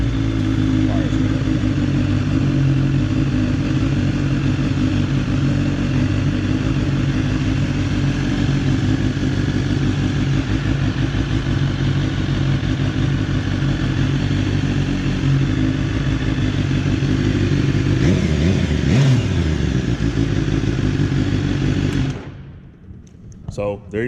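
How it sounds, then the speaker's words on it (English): A BMW S1000RR sport motorcycle engine runs close by at a loud, steady drone with a faint rising whine, then cuts off abruptly near the end. "Bike comes right on."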